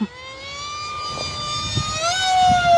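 An FMS Flash 850mm RC airplane flies overhead with a steady, high-pitched whine from its electric motor. The pitch shifts upward and then drops as the plane passes, and the sound grows slightly louder toward the end.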